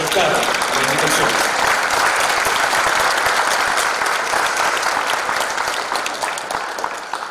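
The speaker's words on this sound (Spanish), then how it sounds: "Para todos ustedes va este aplauso de bienvenida y de agradecimiento por aceptar la invitación." Sustained applause from an audience at a conversation event in Chile, welcoming and thanking guests; dense, loud clapping throughout that tapers slightly toward the end.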